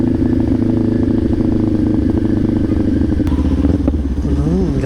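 A sport motorcycle idles loudly at a motorcycle dealership in Daet, Camarines Norte, a close, steady rumbling engine with a throttle blip and some clatter near the end.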